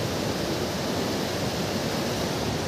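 A flooded river rushing close to a bridge, its water high enough to touch the span, making a loud, steady, broadband roar with no pauses and no voices.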